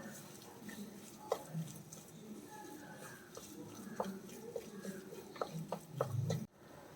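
Hands mix a salted fish cutlet mixture, giving soft, close squelches and sticky clicks in an irregular rhythm.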